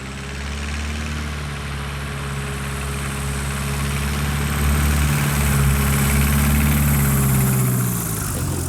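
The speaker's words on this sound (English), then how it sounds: "You can listen to the corrections I do with the throttle" A small aircraft engine's steady drone fills the clip during landing, its pitch and loudness shifting slightly as the throttle is eased up and down, with no voices.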